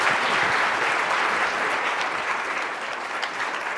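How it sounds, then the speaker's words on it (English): Audience at a regional economic forum applauds for Melina, a full, steady burst of clapping that holds nearly four seconds and eases slightly toward the end. "let's give Melina a big round of applause."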